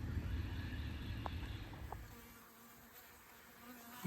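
Honey bees hum inside a house wall cavity between the ceiling of a lower level and the floor of the upper level, a faint, continuous low buzz that eases slightly partway through, with no voices.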